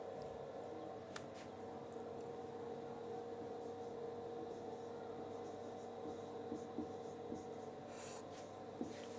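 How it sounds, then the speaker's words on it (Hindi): A pen scratches faintly across notebook paper as notes are written, with soft, irregular strokes under a constant background hum. "चलिए पॉइंट वाइज पॉइंट लिख लेंगे।"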